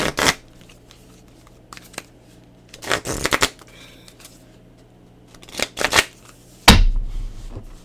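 Thick tarot cards being handled and shuffled, a few separate crisp riffling and flicking bursts close up, with quiet pauses between them.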